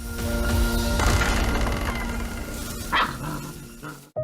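Dogs bark amid a dense, loud mix of music and background noise, with a sharper burst near the end.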